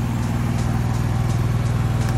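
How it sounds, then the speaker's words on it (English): A 5500 gasoline generator on a 2019 Coachmen Pursuit 32WCP motorhome drones steadily nearby, a loud, even engine hum with a fast low pulsing throb and no voices. "generator that you hear running, that runs off of the gasoline, so it is not diesel."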